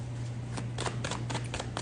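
Tarot cards being shuffled give off quick riffling bursts in an irregular rhythm, close and fairly quiet over a steady low hum.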